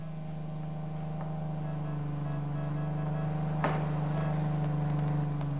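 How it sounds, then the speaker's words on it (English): A steady video game car engine hum drones on at an even pitch in Ring of Elysium, with a faint click partway through and no voices. "I hear a car."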